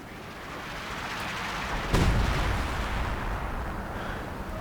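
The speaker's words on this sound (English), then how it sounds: "Here's a barrage right in the center part of the field." An artillery barrage lands in Company of Heroes 2 with one heavy boom rising out of a continuous rumbling roar of battlefield noise, then rolling on as a loud wash.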